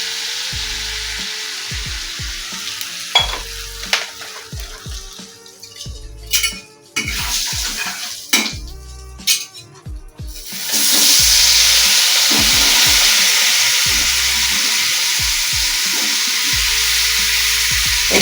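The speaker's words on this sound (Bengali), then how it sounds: "এবার আমি বেগুনটাকে ভাজবো।" Eggplant pieces seasoned with turmeric and salt fry in hot oil, with metal spatula scrapes and clatters against the pan, then settle into a loud, steady, close sizzle.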